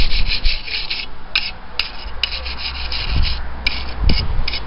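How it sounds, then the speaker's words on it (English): A very stiff wire brush scrubs a Honda CG125 motorcycle part, loud close rasping strokes in quick bursts with brief pauses between them. "Very stiff wire brush, and I don't expect to spend long with it on this, but it will remove anything loose and flaky very, very quickly."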